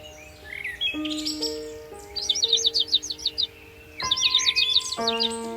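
Sparrows chirping in a village, a lively run of quick, high tweets in bursts over a steady tonal backdrop with sustained musical notes, close and fairly loud throughout.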